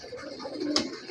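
A pigeon coos softly while being held in the hand, a single short low call heard close by.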